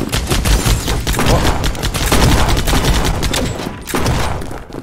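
Rapid bursts of gunfire in a Fortnite-style shooter game, loud and dense, with overlapping shots that continue almost without a break and ease slightly near the end.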